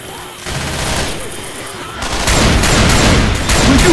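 Shotgun blasts in Left 4 Dead gameplay: loud, booming shots crowd the second half, stacked over dense game noise, with chatter from players in the background.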